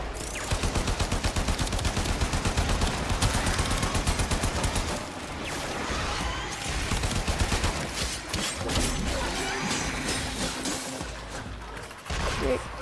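Rapid automatic gunfire in the video game Warframe, with dense, fast bursts up front, then heavier sustained shooting and mechanical game sounds, loud and close, with some talk in between.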